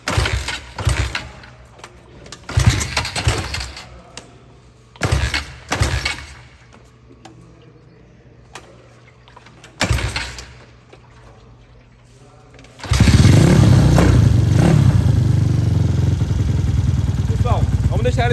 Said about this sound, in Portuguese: Minha motinha aqui, ó, tá parada há um tempo já. Vou ligar a bichona.